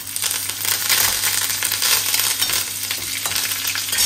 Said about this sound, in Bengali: একদম চিরিং বিরিং করে ফোটে কারি পাতা দিলে